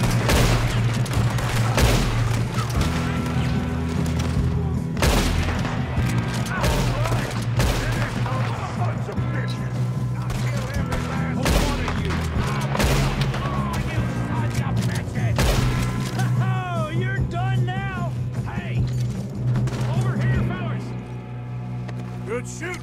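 Gunfire during a train robbery in the video game Red Dead Redemption 2, repeated sharp shots and booms scattered over a constant low rumble of the moving train, loud and close, with voices talking at times.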